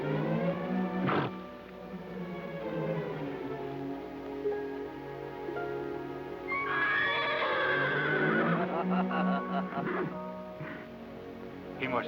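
A horse neighs loudly with a long, shaking whinny in an old Western film soundtrack, with a quieter snort and whinny later amid music or background tones.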